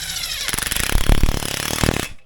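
An impact wrench drives a bolt home on a vintage Polaris TXL snowmobile, a loud, harsh rattling burst lasting under two seconds, close up and on its own.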